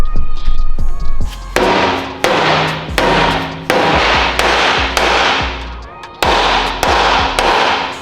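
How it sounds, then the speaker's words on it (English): Heavy hammer blows pound a part down on a widebody Honda Civic Si being rebuilt, about a dozen loud, ringing impacts at a steady, deliberate pace, very close, with a voice speaking faintly between strikes. "Sometimes there's only one way to get shit done. That's by hammering it down."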